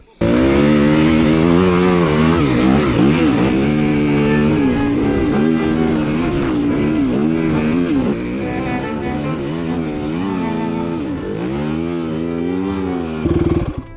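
A 2021 Yamaha WR250F dirt bike engine roars loudly and continuously while riding, its pitch rising and falling as the throttle opens and closes, with a brief revving burst near the end.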